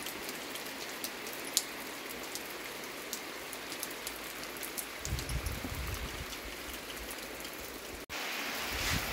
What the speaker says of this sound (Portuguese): a chuva aumentou muito